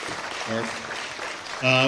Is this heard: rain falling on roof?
no